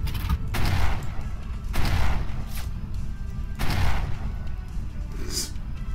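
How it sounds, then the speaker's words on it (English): Warship guns firing a shore bombardment in the naval game Waves Of Steel: four big booming salvos spaced about one to two seconds apart, each rumbling out over a continuous low engine and battle drone. "Bit of light shore bombardment."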